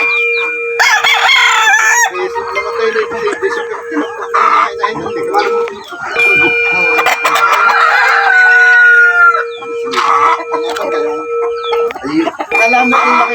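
Chickens cluck loudly nearby while a rooster crows repeatedly, with a steady electrical hum underneath and some voices mixed in.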